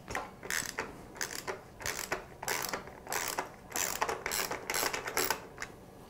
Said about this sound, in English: get your 24 mil socket and a ratchet